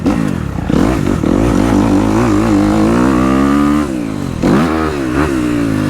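A dirt bike ridden around a motocross track roars close and loud, its engine revving up and down repeatedly as the throttle is worked through turns.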